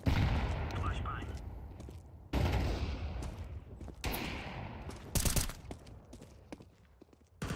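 Video game gunfire crackles in several bursts with booming blasts like a flashbang and grenades, loud and close, interrupted by abrupt cuts, while a voice talks over it.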